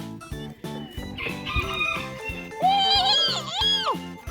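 A rooster crows loudly nearby at a zoo, a rising, wavering call that rolls over a steady hum of chicken clucking in the background.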